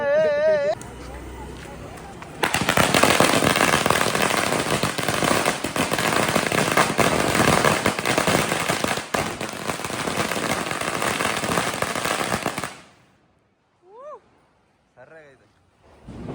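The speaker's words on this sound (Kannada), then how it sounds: "ಇದು ನಾಟಿ ಬೇಡಿ ತಮಿಳ್ನಾಡಿಂದ ತಗೊಂಬಂದವ್ರೆ ನಮ್ಮ ಬಾಯ್ಸು" Naati bedi firecracker strings brought from Tamil Nadu burst at a Diwali celebration, a dense, loud crackling barrage lasting about ten seconds before stopping abruptly, with voices talking and shouting around it.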